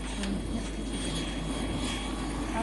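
A helicopter drones steadily and fairly faintly in the background with a low rotor rumble throughout a short stretch, no clear talk.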